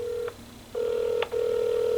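A telephone ringing on a call line in 1992: a steady electronic ring tone repeats in long pulses with brief gaps between them, clear and fairly loud, with no voices.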